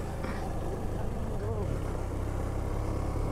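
Motorbike engine running steadily in fourth gear on a road trip, a continuous droning hum with wind rush, close and unbroken, with a voice talking over it.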